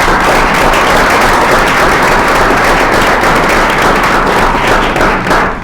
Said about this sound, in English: If you would help me give them a round of applause.